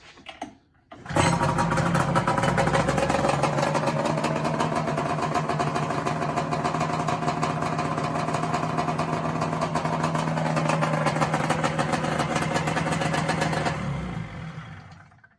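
A Polaris Indy snowmobile engine catches after a brief crank and then idles loudly and steadily for over ten seconds before cutting off.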